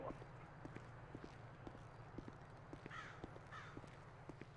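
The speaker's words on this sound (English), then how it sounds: "A bird going nuts over there, going caw, caw." Crow cawing in a video game, a few short caws in the middle, over a steady low hum and rhythmic clip-clop footsteps.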